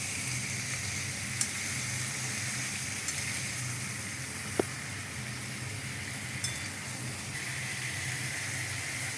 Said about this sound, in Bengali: দেখুন কিছু তরকারিটা কষানো হচ্ছে।